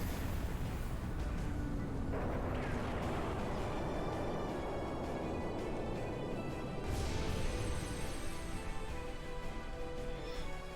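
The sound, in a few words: explosion attack effect in Trails in the Sky the 3rd video game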